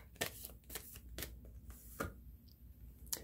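Tarot cards being shuffled and drawn, with a string of crisp card riffles and snaps spaced across the moment, close and fairly quiet, with no voice.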